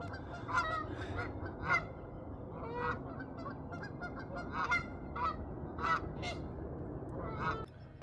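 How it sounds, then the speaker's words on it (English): Geese honk repeatedly in an outdoor setting, several loud, irregular calls overlapping at moderate distance over a low background rumble. "There's some of them wonderful gooses."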